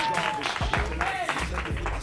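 Studio audience clapping on a Kenyan talk show as a guest is welcomed, a steady mid-level wash of applause running the whole time with voices speaking over it.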